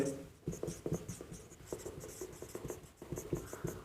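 Writing by hand on a board during a Class 10 maths lesson, heard as quiet scratchy strokes and taps in uneven bursts, close and soft, with no talking.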